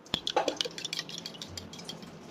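A metal spoon clinks and scrapes against a pan while eggs fry, giving a few quick, bright taps and then softer stirring, faint and close by, with no talking.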